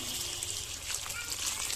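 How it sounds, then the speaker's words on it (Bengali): Water pours in a continuous hissing stream into a pot of shing fish curry with potol and potato, heard close and steady throughout. "পরিমাণ মতো জল দিয়ে দিলাম।"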